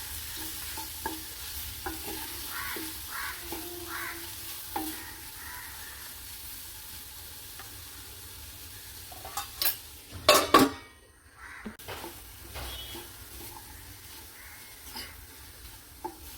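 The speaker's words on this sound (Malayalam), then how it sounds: "ചെമ്മീനൊന്ന് വഴന്ന് വന്നു" A quiet sizzle of frying runs under occasional stirring scrapes, and a louder burst of clattering pan noise comes midway.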